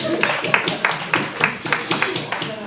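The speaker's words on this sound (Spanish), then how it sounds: "Bueno, un aplauso" Scattered hand clapping from an audience at a housing fair talk, made of distinct sharp claps at an uneven rhythm, moderately close, with faint chatter underneath.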